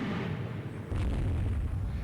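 A torpedo strike in the naval game Rule the Waves 2 sounds as a low, dull boom that swells and rumbles for about a second amid a steady background roar.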